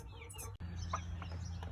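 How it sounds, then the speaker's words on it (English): A flock of meat chickens, a mix of roosters and hens, clucks and murmurs nearby, with a few sharper calls rising over a steady low rumble. "look at this mass of meat birds"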